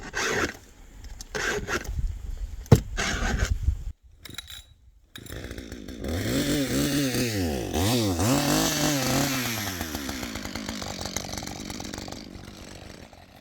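A small chainsaw cuts wood during land clearing on a remote island, with a few knocks and handling noises first, then the engine revving up and down in repeated surges, loud and close, with no talk.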